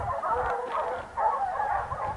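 Hunting dogs bark in a few bursts at a moderate distance during a wild boar hunt, the calls blending together over a steady outdoor background.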